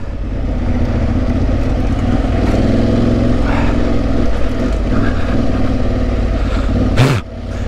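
An Aprilia Tuareg 660 and other off-road motorcycles ride a trail in the Yorkshire Dales, a steady close engine hum with rising and falling throttle and a sharp burst of wind or rumble near the end.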